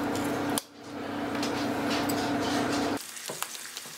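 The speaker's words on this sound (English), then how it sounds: "I'm just putting these in the pan, skin side down, like that." Pieces of food with skin side down frying in a hot pan, a steady close sizzle running for a few seconds, dipping briefly near the start and dropping to quieter crackles toward the end.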